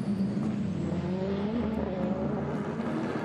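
GTLM-class race cars at Long Beach roar past on the street circuit, a continuous loud engine drone with rising and falling pitch sweeps as they overtake, no talk heard.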